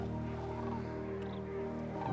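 Cranes calling at Bosque del Apache, a dense, continuous chorus of trumpeting calls that stays loud and steady throughout. No speech.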